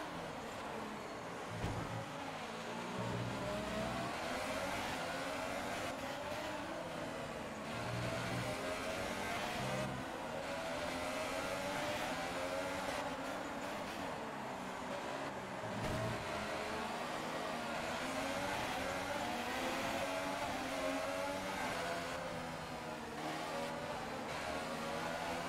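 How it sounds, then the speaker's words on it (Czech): A Mercedes-powered Formula 1 car in a racing video game screams through gear changes, its high-pitched engine rising and falling in repeated revving sweeps, with brief shifts and steady roaring throughout. "Díky silnému motoru Mercedes se zkusím dostat před Kimiho Raikkonena."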